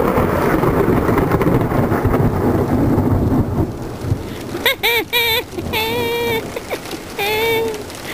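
Heavy rain hisses steadily with deep thunder rumbling through it; partway in, high voices or whistles rise above the downpour.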